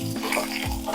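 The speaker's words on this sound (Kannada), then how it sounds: "ಈರುಳ್ಳಿ ಸ್ವಲ್ಪ ಬಾಡಿಸ್ಕೊಳ್ಳೋಣ." Onions sauté in a pan for kaala mirchi chicken, a close, fairly loud bubbling sizzle lasting only a moment, with no voices.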